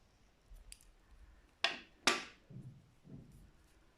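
Scissors snip crochet yarn in two crisp, close cuts a half second apart, followed by faint rustling and handling of the thread in a quiet room.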